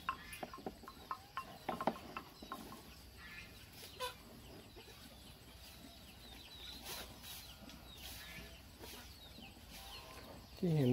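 Chickens clucking faintly around a cow's feeding trough outdoors, scattered soft calls and scratching over a steady background hiss for several seconds.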